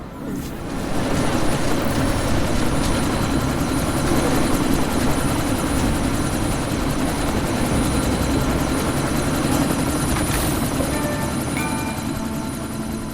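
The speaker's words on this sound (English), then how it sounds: "That chopper's about to take off!" Helicopter taking off in the video game Deus Ex: Mankind Divided, a loud, steady rotor roar and whine that holds continuously for over ten seconds, close and alone.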